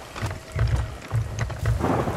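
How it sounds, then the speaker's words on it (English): A thunderstorm at sea in the Sea of Thieves video game: rolling thunder rumbles in repeated low bursts over a steady wash of rain and sea noise, fairly loud and continuous, with no talking. "I really wish we'd get out of this storm so I could walk away from this steering wheel."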